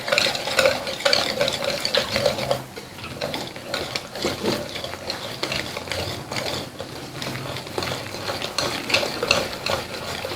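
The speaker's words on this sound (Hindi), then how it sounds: "अच्छी तरह से इनको करना है हमने मिक्स।" Rice flour and spice mixture is stirred by hand in a bowl for tawa fish coating, with dense close scraping and clinking of a spoon against the bowl in uneven rhythm and no talk.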